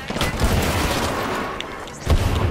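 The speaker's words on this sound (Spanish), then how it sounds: "Ahí va la granada" A grenade goes off in an Apex Legends firefight, a loud low boom near the end after a rough burst of gunfire and battle noise, close and forceful.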